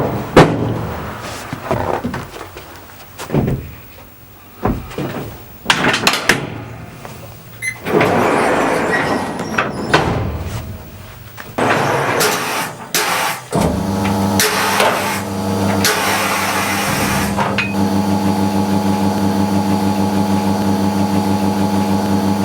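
Vacuum forming machine moulding Stormtrooper knee armour: a loud, continuous mechanical hum and drone with clunks, thumps and bursts of rushing air, ending in a steady pump-like roar.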